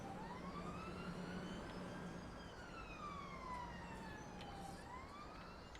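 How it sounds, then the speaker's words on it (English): A police siren in the train simulator game Train Sim World 5 wails in long rising and falling sweeps, fairly distant and steady, with a low hum running underneath. "Wow, police sirens in Berkhamsted."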